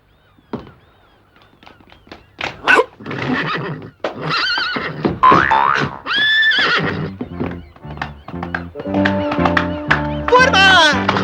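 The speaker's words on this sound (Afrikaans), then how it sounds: "Ja, die perde staan en wag." Horses neighing and whinnying in several loud, close calls one after another, mixed with other animal honks and movement, with short gaps between cries.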